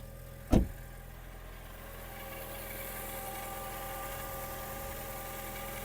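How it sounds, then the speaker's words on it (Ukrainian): A 2010 Volkswagen Golf 6 with a 1.6 MPI engine running on gas idles smoothly and steadily without misfiring, a low even hum that holds throughout after a brief knock near the start. "Двигун завівся з півтику, не димить, не троїть"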